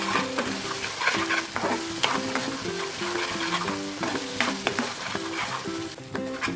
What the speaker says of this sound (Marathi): हे आता एकदम सुकं होईपर्यंत त्याला फ्राय करून घेऊया। गॅस एकदम स्लो ठेवून आम्ही फ्राय करून घेऊया।